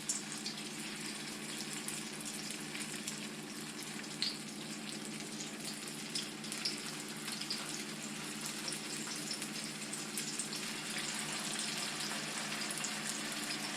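Turon, banana and jackfruit rolls, frying in hot oil at about 350 degrees, giving a steady, even bubbling sizzle that holds for the whole stretch with no voices.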